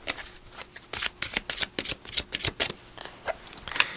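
Oracle cards shuffled by hand in a quiet room, a run of crisp riffling and slapping bursts in an uneven rhythm, close and clear.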